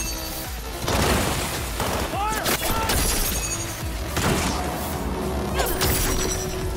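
Dense, loud video game gunfire with booming impacts and crashing debris filling the whole stretch, rapid bursts overlapping in a chaotic firefight, with a voice talking over the din.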